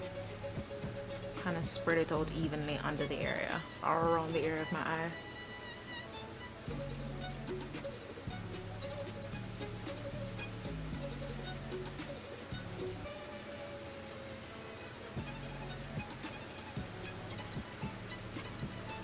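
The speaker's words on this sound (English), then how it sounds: "You might be able to hear the raindrops outside." Steady rain patter and hiss from rain falling outside runs underneath a person talking calmly close by indoors, with the rainfall continuing evenly once the speech stops.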